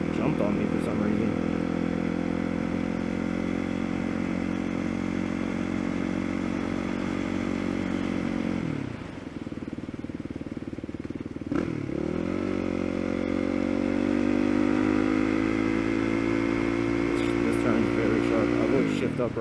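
A motorcycle engine runs steadily and loud up close, then dips as the throttle drops before revving back up to a strong sustained pitch.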